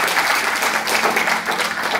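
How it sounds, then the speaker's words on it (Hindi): Enthusiastic audience clapping for the anchor at a book launch for 'Ye Ishq Nahi Aasaan', a short, dense burst of applause from a seated crowd. "तो एक बार भरपूर तालियां एंकर साहब के लिए"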